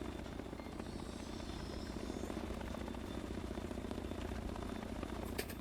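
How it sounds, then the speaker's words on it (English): Helicopter rotor and engine noise, a steady broadband drone with a rhythmic chop that holds through the whole stretch at moderate distance, with no voices. "Is that chopper still going?"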